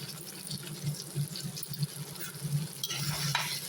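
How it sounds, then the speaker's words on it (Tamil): Dried brinjal pieces, squeezed out of water, stirred and sautéing in oil in a pan with onion and tomato, giving a steady low stirring scrape with a light sizzle and no voices. "நல்லா அதையும் எண்ணெயிலே வதக்கிடலாம்."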